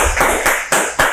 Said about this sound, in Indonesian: tepuk tangan untuk Nutribubu.